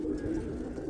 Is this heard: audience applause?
no